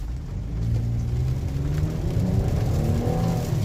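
Mitsubishi Outlander in snow mode pulling away with all-wheel control, a steady close engine drone rising smoothly as it accelerates, with no talk.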